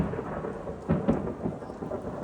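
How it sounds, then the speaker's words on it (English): Thunder rumbles low and heavy through a rainstorm, swelling in a couple of deep rolls over the constant patter of rain. "Okay guys, another thunder."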